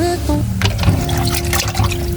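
Water trickles and pours steadily for soaking and washing vegetables for a udon noodle dish, a continuous splashing flow with a faint low hum underneath.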